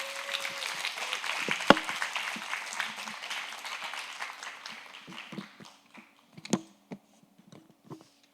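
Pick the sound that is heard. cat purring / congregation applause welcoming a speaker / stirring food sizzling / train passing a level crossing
congregation applause welcoming a speaker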